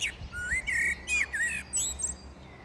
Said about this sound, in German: Ich habe hier so eine nervige, quietschende Amsel da sitzen